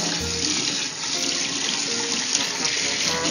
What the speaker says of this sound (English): just rinse it under some cold water and all the seeds